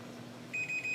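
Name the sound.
sous vide cooker timer beeping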